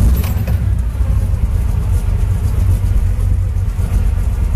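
A 1965 Chevy Chevelle convertible's engine runs steadily with a deep, loud low rumble throughout, close by and without talk.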